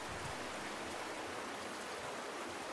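A steady waterfall in the video game Darksiders 2 gives a constant broad rushing wash of falling water, even and unbroken, with no voices over it.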